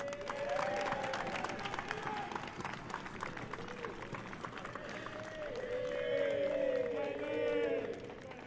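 Crowd applauding at the MLS NEXT Cup U15 Homegrown Final soccer match, steady clapping and cheering throughout with a swell of louder shouts near the end, voices mixed in.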